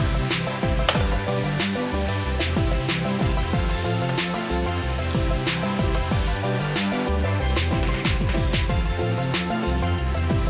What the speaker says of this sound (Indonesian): Dan ketika bawang putih goreng telah terlihat agak menguning kecoklatan, matikan kompor.